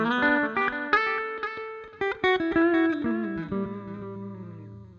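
An electric guitar played through an Axe-Fx II with delay and reverb gives bright picked notes and chords, with echoing repeats trailing each phrase and a long reverberant decay at the end.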